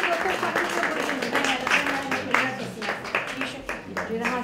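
Audience applause at an art gallery award ceremony, a dense, irregular patter of many hands clapping at moderate distance, mixed with voices talking over it.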